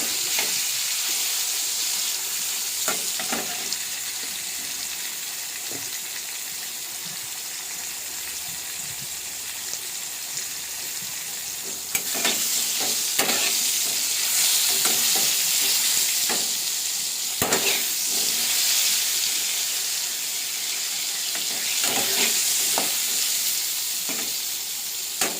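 Pointed gourd sizzles and fries in a pan with turmeric while being stirred, a steady loud hiss with scraping stirs throughout and no talking.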